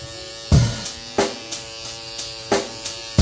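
Electric hair clippers buzz steadily while trimming a boy's hair at a barber's, with short sharp bursts of contact noise recurring every half second or so, close and fairly loud.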